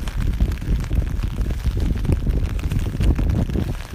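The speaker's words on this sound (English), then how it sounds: "It's just the sound of the rain and the sprinkles of the puddles." Rain falling and splashing into puddles outdoors, a dense, close, low rumbling patter with irregular splashy bursts, continuous throughout and heard on its own.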